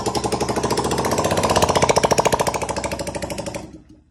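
Hero Splendor motorcycle engine running through its original silencer, a loud, steady pulsing exhaust throb close by that builds slightly and then cuts off near the end, with no talk over it.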